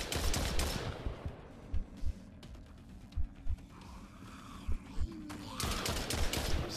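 Repeated gunshots from a weapon in a zombie horde-mode video game, sharp bursts spaced irregularly over a steady din of game sound and effects, with no talking.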